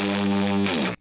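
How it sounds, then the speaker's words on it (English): An electric guitar chord rings through a ProCo RAT distortion pedal at full gain, thick and buzzing, sustained loudly for most of a second before a brief restrike and an abrupt cutoff. "at full distortion, you can even hear the noise"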